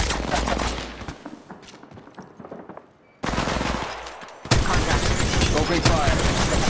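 Rapid automatic gunfire in Apex Legends Mobile, loud dense bursts that thin out midway, drop to near silence, then return at full intensity, with game voice callouts over the shooting.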